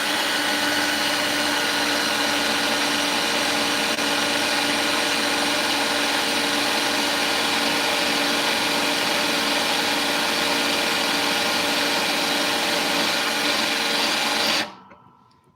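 Steady, loud whine of a power tool spinning DeWalt bits against a knife edge to round it, running continuously before cutting off abruptly near the end.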